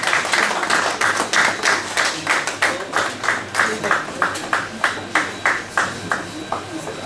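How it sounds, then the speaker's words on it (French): A press-event audience claps for an artist in a steady, rhythmic round of applause that carries on for several seconds and gradually thins out. "Sous vos applaudissements, mesdames et messieurs de la presse."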